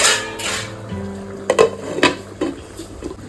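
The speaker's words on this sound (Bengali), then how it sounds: "এবার ঢেকে রেখে দেবো" A metal lid is set over a pot of crab curry on the stove. A few sharp clanks and rattles sound close by over a soft background.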